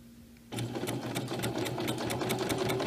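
Sewing machine stitching fabric for a mermaid tail: after a brief quiet moment it starts abruptly and runs in a fast, steady, rhythmic whir with regular needle clicks, loud and close, with no talking.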